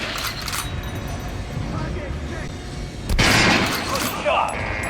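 Gunfire at a shooting range in the Metro Last Light video game, steady rapid shots under a voice, then a louder sharp burst of fire near the end.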